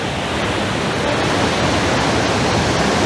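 A waterfall at Yaremche roars in a steady, loud, broadband rush that stays constant throughout, close by and with no voices over it.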